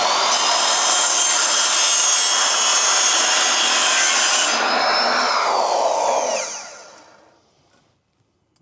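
Broadband rasping of a power tool squaring up a wood edge while fitting an outlet on a cargo trailer, running steadily and loud for several seconds, then winding down and fading to near silence.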